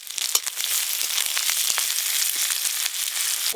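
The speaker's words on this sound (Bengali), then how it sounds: "পেঁয়াজগুলো একটু ভালো করে ভাজা ভাজা করে নিয়েছি" Chopped onion and two dried red chillies frying in mustard oil, a close, loud, continuous sizzle broken by sharp crackles and spits throughout, with nobody speaking.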